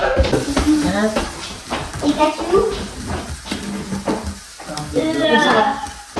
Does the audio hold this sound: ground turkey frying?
yes